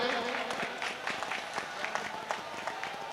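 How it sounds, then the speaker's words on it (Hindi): A poetry gathering audience claps to welcome a poet, brief crowd applause heard beneath a speaking voice that continues over it. "मैं चाहता हूं पहले पूरा सदन भाई सुमित मिश्रा का जोरदार तालियों से स्वागत करें"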